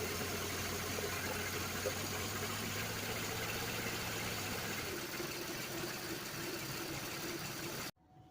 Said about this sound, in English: I let the engine run a little bit.